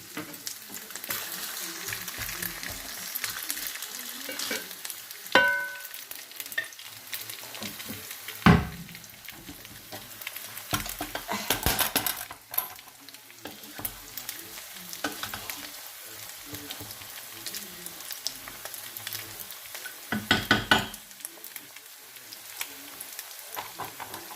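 Egg- and flour-coated fish fillets fry in oil, a steady moderate sizzle and crackle that runs throughout, broken by occasional clinks and scrapes from a utensil against the pan, with no talking.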